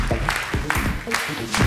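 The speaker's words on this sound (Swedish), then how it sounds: "Ge Rami en stor applåd" Audience at a stage show applauding a volunteer called up on stage, a loud burst of crowd clapping with speech-like voices mixed in over the top.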